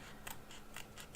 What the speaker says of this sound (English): I might need other scissors to get in there.